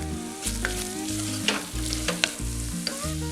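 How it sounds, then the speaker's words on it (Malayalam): Spice powders sizzle and fry in hot oil inside a pressure cooker while chicken curry is being made, a steady crackling hiss with a few sharp spoon clinks against the pot and a low rhythmic hum underneath. "കുക്കറിലായതുകൊണ്ട് പെട്ടെന്ന് തന്നെ ഈ നമ്മൾ ചേർത്തിരിക്കുന്ന പൊടി നന്നായിട്ട് മൂക്കും."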